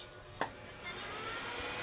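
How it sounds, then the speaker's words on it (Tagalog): Blower fan of a DeWalt welding machine, fitted as a replacement, runs with a steady broadband whir after a brief click, holding an even level throughout with no talking. "titesting natin siya. Okay ba yung blower?"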